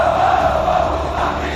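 Santa Cruz football fans at the Arruda stadium in 1999 roar as a dense, loud crowd, with a brief unbroken swell of massed voices.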